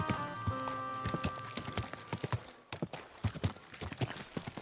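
Rhythmic hoof clip-clops of a horse trotting in the video game Kingdom Come: Deliverance II, steady and close, with a tonal hum and a brief whinny-like sound early on.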